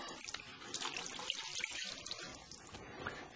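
Water squeezed from a split-mold biomass fuel briquette mold running out through a drainage tube, a faint continuous trickling and splashing with small irregular drips, close and quiet, no talk.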